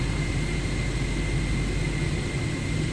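Steady aircraft engine running just after start-up in Microsoft Flight Simulator 2024, a continuous loud hum with a broad hiss and low rumble, unchanging throughout with no voices.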